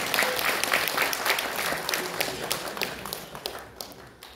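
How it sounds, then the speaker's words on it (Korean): Full crowd applause at a Korean symposium's opening ceremony, a thick continuous clapping that starts loud and gradually thins out. Scattered individual claps stand out toward the end. "네, 다시 한번 큰 박수 부탁드립니다."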